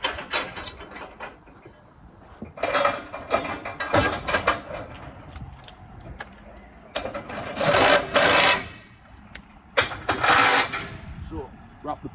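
A ratchet tightens a double scaffold coupler on bent scaffold tube in several bursts of rapid metallic clicking, close and fairly loud, separated by quieter handling noise and brief gaps.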